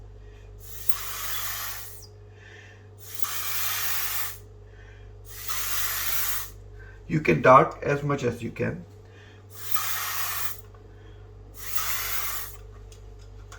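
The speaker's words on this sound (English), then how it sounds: "and then you will spray it like this." Ink is sprayed onto calligraphy paper to make Ghubār paper in repeated hissing bursts, about five of them, each lasting around a second and close by, with a short spoken phrase in the middle.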